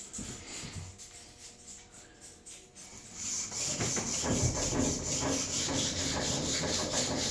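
Rust being wiped off the iron of an old block plane: soft scraping and light tapping at first, then a steady, louder scrubbing rub that keeps going to the end.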